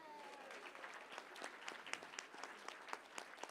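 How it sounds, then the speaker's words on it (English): Applause from a high school campus audience, a quiet, sparse clatter of clapping with distinct individual claps popping out over a soft continuous bed, heard from some distance. "Give her a round of applause."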